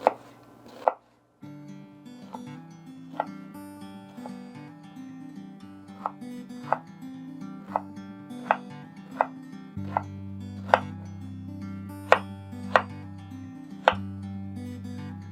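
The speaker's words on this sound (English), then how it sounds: "Get this other one cut, or the other half cut." A knife chops food on a cutting board in a kitchen, giving a steady series of sharp, close taps at an even rhythm over soft background music, with no talking.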